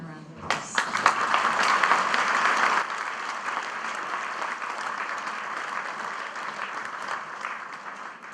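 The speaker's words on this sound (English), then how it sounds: "Let's give them a round of applause." An audience applauding at a high school leavers' ceremony, a dense sustained burst of clapping that swells at first and then settles into a steadier, slightly softer patter, with some scattered voices mixed in.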